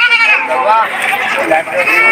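Goats for sale at a livestock market in Padre Garcia, Batangas, a male and a female pair, bleating repeatedly in wavering cries, close and loud, mixed with people talking throughout.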